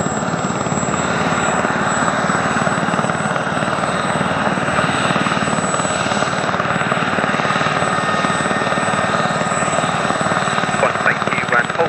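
Gazelle XZ934 helicopter starting up on the apron at RIAT Fairford, 2022. A loud, steady turbine whine and rotor roar continue throughout, with a constant high tone on top.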